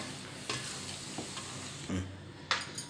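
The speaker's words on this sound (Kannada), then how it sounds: "ಸ್ವಲ್ಪ ನೀರು ಹಾಕಿ ಒಂದು 3 ಮಿನಿಟ್ಸ್ ಚೆನ್ನಾಗಿ ಕುದಿಸ್ಕೊಳ್ತಿದ್ದೀನಿ" Pitla, a gram-flour curry, simmers with a little added water in a pot, giving a soft continuous bubbling hiss with a few louder stirring knocks and scrapes, close and steady with no talking.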